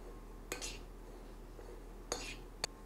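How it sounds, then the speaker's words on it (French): A spoon scrapes through cooked couscous to separate the grains, giving a few quiet, brief clinks and scrapes against the dish over a low background hum. "on vient le gratter avec une cuillère et on défait ce couscous"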